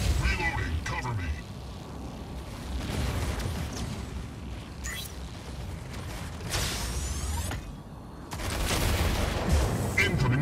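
Gunfire and explosions in the mech combat game Mech Arena, with dense bursts of shots and booming blasts throughout, layered under synthetic announcer voice callouts.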